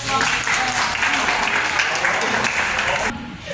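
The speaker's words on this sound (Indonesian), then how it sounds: "kasih tepuk tangan dong." Audience applause at a group activity session, a steady dense wash of clapping lasting about three seconds before cutting off, with voices mixed in underneath.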